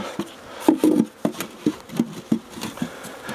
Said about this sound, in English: Tap out the bees from the feeder.